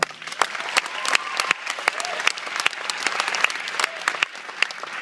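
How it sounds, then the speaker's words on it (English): An audience applauds a young performer, with dense, lively clapping from a crowd throughout and a faint murmur of voices beneath. "So give him a round of applause."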